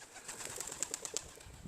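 Young pigeons at a loft in Chico, California coo and flutter close by, with a quick series of soft calls and wing sounds over faint outdoor background.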